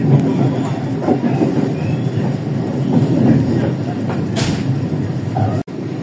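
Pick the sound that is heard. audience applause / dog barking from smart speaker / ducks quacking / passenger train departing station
passenger train departing station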